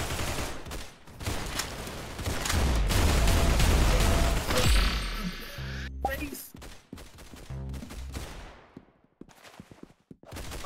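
Rapid bursts of gunfire in an Arsenal video game, loud clustered automatic shots and booms followed by sparser clicks and mechanical sounds, no speech.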